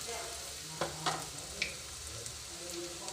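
Onions fry in a pan with a faint, steady sizzle, broken by a few light clicks and scrapes of stirring, quiet and close, no talking.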